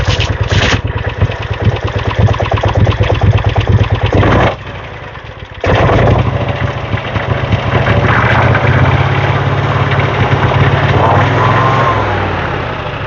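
Small engine with an uncleaned carburetor running loud and close after a starting attempt, rough steady idle with a brief dip in the middle before it picks back up and settles.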